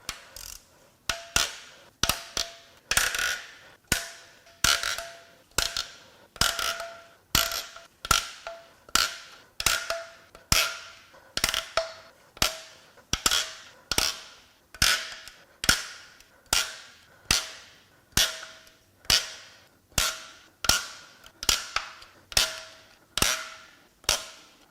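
A tool works at the cam caps of a BMW M54 engine during teardown, producing a long, steady series of sharp clicking ratchet snaps, close and fairly quiet, with no voices.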